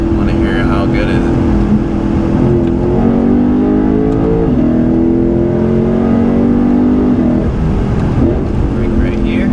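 A Lexus RC F engine drones loudly and steadily, its pitch climbing and dipping as it accelerates and eases off, heard from close by inside the car.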